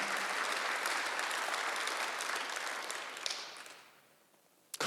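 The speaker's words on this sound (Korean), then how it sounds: "박수하세요." Congregation applause at a Sunday church service, a full, steady roar of clapping that thins and fades out over the last second or two before a sharp final noise.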